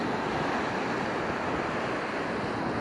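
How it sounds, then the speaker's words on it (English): Ocean waves washing onto a rocky shelf along a beach, a loud continuous wash of surf and rushing water mixed with wind buffeting the microphone. "And waves getting up here on the shelf"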